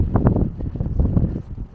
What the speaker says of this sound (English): Now, although it is 50 degrees, it's still very windy.